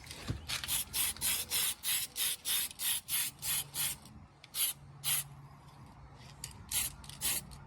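Rapid bursts of aerosol spray paint hit an RC car body, about a dozen short hissing pulses in steady rhythm with brief gaps, loud and close, no talking.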